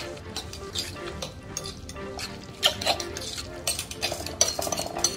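Bruschetta topping being stirred in a bowl with a utensil, giving close, irregular clinks and soft wet scraping that continue for several seconds.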